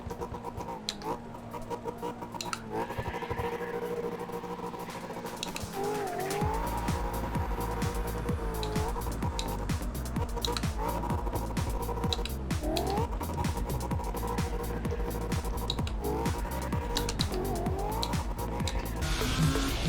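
Tires squeal and an engine revs and shifts as a car drifts in the video game CarX Drift played with a PXN V900 steering wheel; the skids are loud and continuous, and the engine rises and falls repeatedly.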